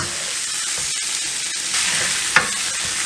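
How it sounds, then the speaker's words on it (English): Beef browns in a hot pan for stew, giving a loud, steady sizzle. Its hiss swells midway, and a single sharp clack of a utensil against the pan comes near the end, with no one speaking. "we're trying to brown our meat"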